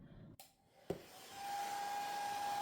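A hair dryer blows over a fresh watercolour painting done with cheap Temu watercolour paints. It clicks on after a couple of brief knocks, then builds to a steady, close whooshing drone with a faint whine that runs to the end.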